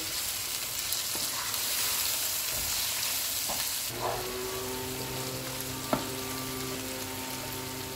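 Ground masala with red chili powder is roasted in a pot for biryani, giving a steady close sizzle with occasional stirring scrapes and taps, and no voices.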